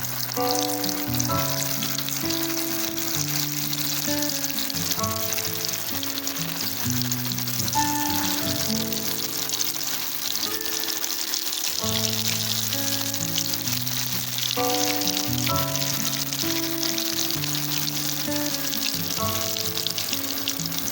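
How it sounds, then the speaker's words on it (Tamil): Soya chunks fry in hot oil in a home kitchen, giving a steady, dense sizzle with crackling bubbles from start to finish, close and continuous, with music playing underneath. "ஸோ ஆயில் ஹீட் ஆகிடுச்சு. 1 by 1 இதில் ஆட் பண்ணிடுறேன்."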